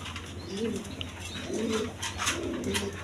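A pair of cream bar pigeons at an exhibition coo in soft, repeated low phrases, three or four close rounded calls over a light background murmur.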